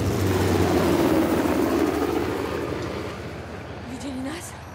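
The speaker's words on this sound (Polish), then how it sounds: "Skąd Asaf ma śmigłowiec?" A helicopter flying in Uncharted: The Lost Legacy, a loud steady rotor and engine drone that slowly fades, with game sounds layered on top.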